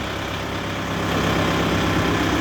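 A Kubota MU 5502 tractor's diesel engine runs steadily and close while the tractor turns, a low, even rumble with no talking over it.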